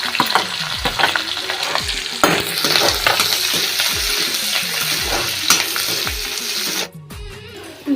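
Onion and green chili frying in a pan with cumin, giving a loud, steady sizzle with repeated spatula scrapes and stirring knocks throughout, dropping briefly near the end before resuming.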